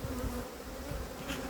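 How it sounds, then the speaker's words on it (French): Honeybees packed into a beehive super give a close, steady, dense buzzing hum throughout, with no voices. "c'est plein d'abeilles."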